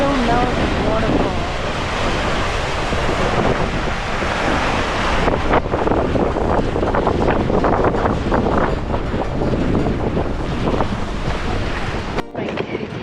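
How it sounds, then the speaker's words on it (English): A waterfall near the Greenland ice sheet roars in a dense, constant wash, heavily buffeted by wind on the microphone and interrupted by a sharp thump near the end. "Now the waterfall."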